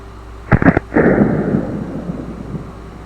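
A blowback-operated Makarov pistol firing under normal conditions, a few sharp, loud cracks in quick succession followed by a heavier report that rolls off into a fading echo.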